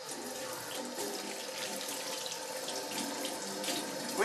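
Tap water runs steadily into a kitchen sink as fish is rinsed under it, a continuous close splashing stream with no voices.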